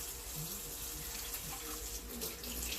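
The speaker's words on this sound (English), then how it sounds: "Just washing my hands real quick." Tap water running into a sink with soft splashing, as hands are rinsed under the stream; faint and steady.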